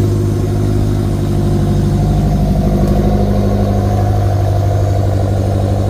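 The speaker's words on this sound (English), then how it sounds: "Yeah, this is the cold start." BMW E70 X5M V8 engine on a cold start, idling with a steady, deep, slightly rough rumble that stays close and even throughout, no voices.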